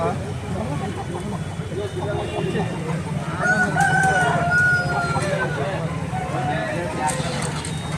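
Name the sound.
country roosters crowing at a poultry market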